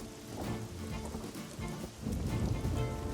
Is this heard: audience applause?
no